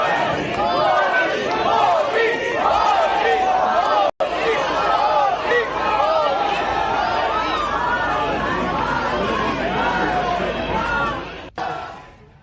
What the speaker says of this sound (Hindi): वहां मौजूद लोगों ने तालियां बजाकर इसका स्वागत किया और मोदी मोदी के नारे गूंजने लगे।